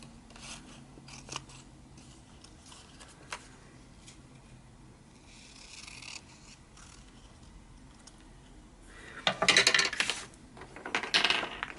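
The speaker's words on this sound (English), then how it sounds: "So I'm going to trim this up a tad and ink it." Scissors trim a paper tag for a junk journal, quiet snips and rustles spread out before a quick burst of louder, close cutting clicks near the end.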